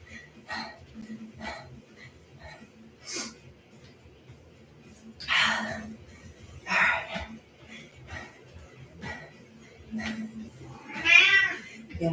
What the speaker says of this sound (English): Look, this cat has been doing this to me this morning.